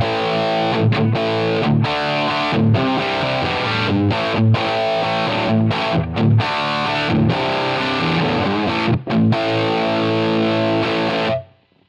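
A heavily distorted electric guitar, modeled on a Line 6 Helix with a Royer R121 ribbon mic model, plays loud chugging riffs with brief palm-muted stops before ending abruptly.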